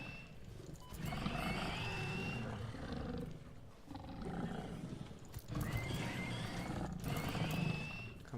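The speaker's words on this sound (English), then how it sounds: "They do sound like pigs, so Hog Remains was a good name for him." Hog creatures in the video game Satisfactory's swamp biome, a whole pack of them, squealing and roaring in long, harsh, pig-like bursts that repeat, with a brief dip between cries.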